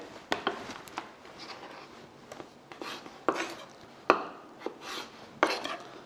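A kitchen knife slices through a cucumber on a cutting board, giving a series of sharp, irregular taps and thunks up close, with quieter scraping between the cuts.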